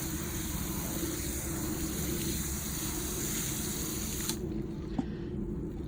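Water poured onto dry, uncomposted soil around an apricot tree, a steady close gushing and splashing that runs for several seconds, then cuts off abruptly, leaving a faint drip or two.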